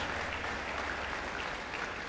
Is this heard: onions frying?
no